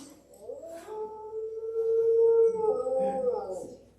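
A hound's howl performed as a sound effect in a stage play of The Hound of the Baskervilles, with a long, rising and wavering mournful cry that swells to its peak midway through and then trails off, loud and close.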